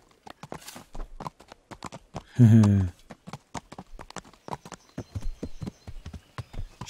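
Horse hooves clip-clop in a steady rhythm as an armored rider travels in the medieval game Kingdom Come: Deliverance, the clear hoofbeats continuing around someone speaking and laughing briefly.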